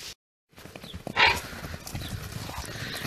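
A horse whinnies in a bright, brief call after a short silence, followed by nearby hoof clopping and shuffling noises.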